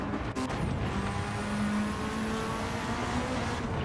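Tuner cars race on a track in a racing game, with a steady loud engine drone and a whining tone held throughout, no talk.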